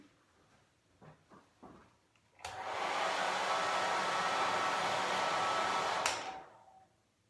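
A hair dryer switches on and blows with a steady, loud whooshing roar for several seconds, then cuts off, after a few faint knocks.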